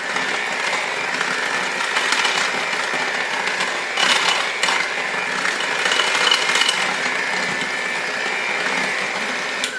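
An electric mixer beats vanilla cake batter with half the flour added, giving a steady, loud, continuous whirring drone with slight fluctuations throughout and no talking.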